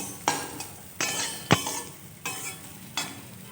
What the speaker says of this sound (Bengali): উচ্ছেটা ভাজা হচ্ছে উচ্ছে ভাজতে বেশিক্ষণ লাগবে না